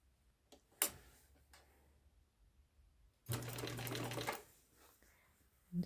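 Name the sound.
sewing machine stitching quilt block fabric around curve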